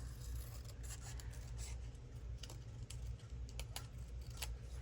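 Scissors trim paper for a decorated journal page, a scattered run of short, crisp snips over a steady low hum.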